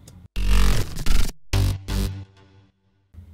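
One bar of an electronic dance drop built from layered synths, with loud punchy chords and heavy bass hits separated by short gaps, fading into a quieter tail.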